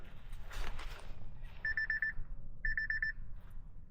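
A phone alarm beeping outdoors beside a river, two short bursts of rapid electronic beeps about a second apart, clear and fairly close over low wind and water rumble.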